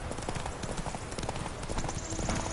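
A horse trots in The Witcher 3 after the rider's command, its hooves making a quick, even clip-clop close by over a dense, noisy game background.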